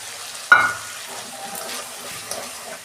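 Spice paste dropped into hot oil with tomato for Bengali pabda fish curry bursts into a loud sudden sizzle, then settles into a softer crackle with faint stirring and a small clink, no voices.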